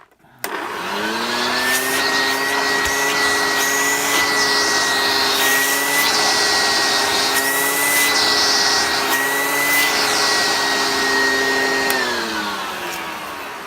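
A Hoover Junior U1012 vacuum cleaner with its flex hose attached switches on and runs with a loud, steady motor whine and airflow hiss for several seconds, close by, then begins winding down.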